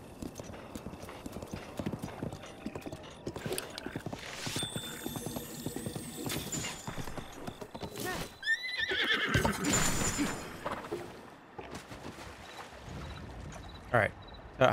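A horse in Zelda: Breath of the Wild neighs and whinnies over steady clip-clopping hooves, with people talking throughout.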